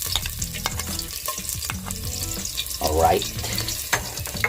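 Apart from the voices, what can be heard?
crushed garlic frying in hot oil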